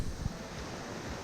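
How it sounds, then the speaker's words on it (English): Upper waterfalls at Keld, a steady broadband rush of falling water heard at moderate distance, constant and unbroken, with a faint low thump near the start. "Just moved to the upper waterfalls at Keld."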